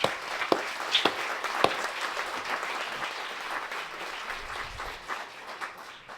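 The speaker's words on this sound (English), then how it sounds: "que l'on peut applaudir encore une fois" Audience applause at a conference plenary session, steady clapping from a crowd with a few sharper individual claps standing out near the start, continuing at an even level throughout.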